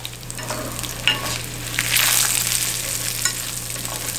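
Onion and green onion sizzle in oil over lowered heat in a garlic ramen base, a steady close frying hiss with occasional stirring scrapes and a louder crackling burst midway, with no talking.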